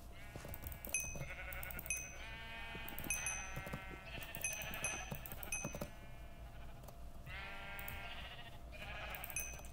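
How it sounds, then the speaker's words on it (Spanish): Repeated sheep bleats from the Minecraft video game, several overlapping calls in a steady stream across the whole stretch, fairly loud and close with no talk over them. "me roban todas las ovejas"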